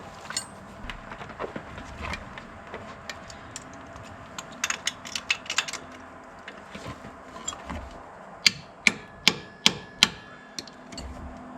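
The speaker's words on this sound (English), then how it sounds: "We're gonna take our socket and pound it on there because the fed's got a little boogered up." A socket is hammered onto a damaged bolt on a 2000 Jeep Wrangler TJ, sharp metallic taps scattered at first, then a run of about seven loud, evenly spaced blows near the end.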